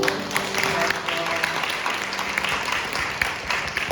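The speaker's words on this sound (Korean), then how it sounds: "우리 환영하고 박수하고" A church congregation at a Mother's Day worship service claps in welcome, a continuous mid-level patter of many hands with a low hum of music or voices beneath.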